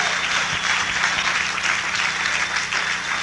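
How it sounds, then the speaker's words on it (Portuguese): A church congregation applauding during a Portuguese-language sermon, a dense, steady wash of many hands clapping at once, fairly loud and sustained throughout without speech. "Dê um aplauso a Jesus Cristo"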